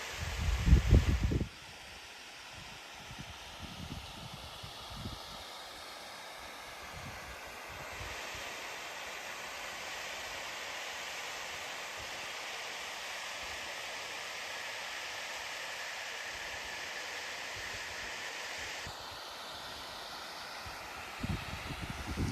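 A steady, distant rush of a waterfall in the Peak District fills the air, constant and broadband, with a brief louder rustle at the start and end.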